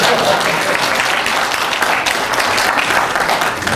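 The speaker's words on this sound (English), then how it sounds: "Where's the applause?" Audience at a university announcement event applauding, a loud, continuous burst of clapping from a sizeable crowd lasting the whole moment without speech.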